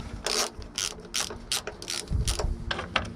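Ratchet snugging bolts on a 2022 KTM SuperDuke 1290 during a servo eliminator install: a close, fast series of crisp clicking pawl strokes in short repeated bursts, with a low background hum and no talk.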